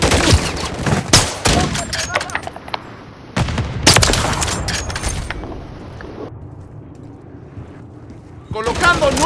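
Dense bursts of automatic gunfire and explosions from the shooter game Call of Duty, loud and close, break off into a lull, then resume. Voices shout among the shots.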